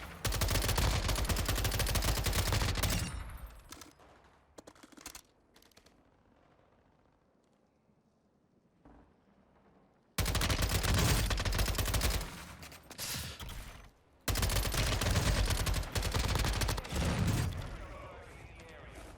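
Gunshots in Warzone 2.0 ranked play: close, loud bursts of automatic fire that cut off into a near-silent pause, then resume in two more long, intense stretches.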